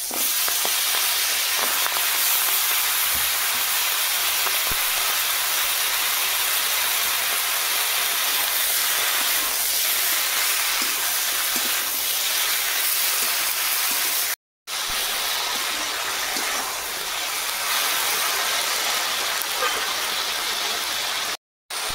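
Five-spice seeds and chopped Malabar spinach sizzle steadily in hot oil, a dense close frying hiss with occasional stirring scrapes running throughout, briefly cut twice by short silences.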